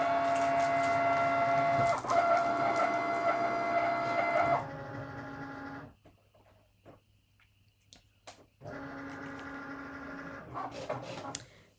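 A Cricut machine cutting faux leather whirs and buzzes steadily nearby, pauses into near silence for a few seconds, then resumes its motorized whine with small clicks and shifts.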